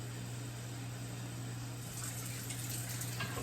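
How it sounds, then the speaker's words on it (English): Water pours into a pot holding brown rice in a kitchen, a faint continuous splashing stream over a low steady hum that grows slightly fuller toward the end. "And then I'm going to add 2 cups of water."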